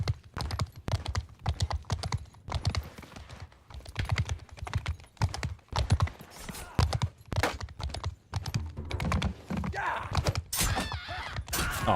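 Horse hooves clip-clop in a competitive PUBG-style game match, a fast repeated trotting patter running throughout alongside keyboard clatter and other game sounds.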